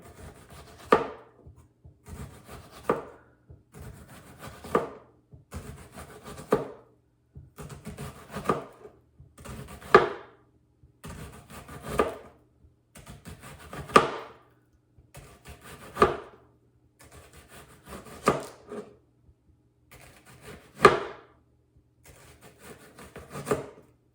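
A knife slices a red onion on a cutting board, about a dozen crisp, evenly spaced cuts, each a short scraping crunch ending in a tap on the board, close and clear with no talk.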